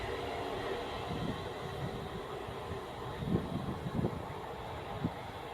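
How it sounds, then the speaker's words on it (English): Class 350 electric multiple unit accelerating away on the West Coast Main Line at Winsford, a low steady rumble with soft rhythmic knocks of wheels over rail joints, fairly faint and without voices. "And with 350, 371 accelerating to its next stop"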